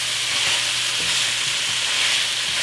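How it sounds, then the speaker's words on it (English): Dried thyme and curry powder stirred and sizzling in a hot pot for a one-pot chicken jollof rice, a steady close frying hiss with soft scraping stir strokes throughout, no voices. "Add in 3 teaspoons of dried thyme, 3 teaspoons of curry powder. Give that a stir."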